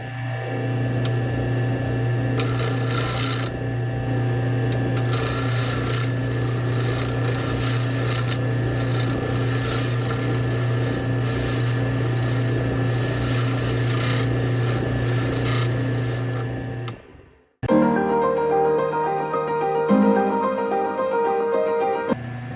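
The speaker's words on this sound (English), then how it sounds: "now we can just shave it off and finish making this handle" A blade shaves hardened epoxy off a wooden back scratcher handle, giving a steady close rasping scrape that runs continuously, then stops abruptly before a different, more tonal sound takes over.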